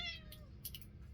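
A cat gives a single short meow at close range, followed by faint clicks and rustling in a quiet room.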